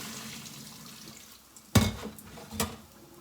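Water being poured off a cooking pot into a sink: a sudden loud splash and gush, then a second shorter pour, over a quiet kitchen background.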